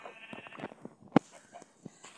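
A Minecraft sheep gives one short, sharp bleat near the middle, set among quiet, scattered game noises and faint background sounds.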